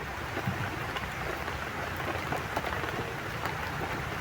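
Steady, dense rainfall pattering on surfaces all around, constant and fairly loud with no voices.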